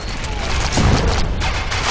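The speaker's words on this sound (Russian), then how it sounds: "она может заряжать энергией любой предмет, после чего он взрывается" An explosion from a charged object blowing up in the action game Merchants of Brooklyn, a short loud boom with crackling debris around the middle of a dense, continuous game soundscape.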